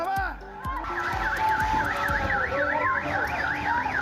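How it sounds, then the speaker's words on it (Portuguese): Several car alarms blare after a building collapse in El Junquito on the outskirts of Caracas, a warbling, cycling electronic wail with overlapping honks and beeps, loud and sustained throughout. "Alarmes acionados pelo barulho, pelo estrondo do desabamento desse imóvel"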